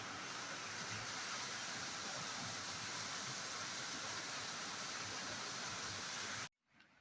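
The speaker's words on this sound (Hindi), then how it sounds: "यहाँ पर काफ़ी बड़ा वाटरफॉल है, ये भी बहुत ऊंचाई से गिरता है" A large waterfall in dense forest plunges from a great height, making a constant, even roar of rushing water heard from a distance. The roar cuts off abruptly near the end.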